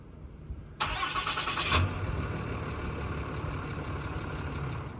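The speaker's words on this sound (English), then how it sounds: "I'm gonna go ahead and start the truck for you." A lifted 2018 Ram 2500 diesel truck cranks and fires up, a sharp starter burst settling quickly into a steady, close diesel idle with no talking.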